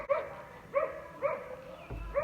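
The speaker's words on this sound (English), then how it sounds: "the dogs are going crazy" Agitated dogs bark repeatedly, a steady series of about five rhythmic barks, fairly faint and somewhat distant, with a brief low thump near the end.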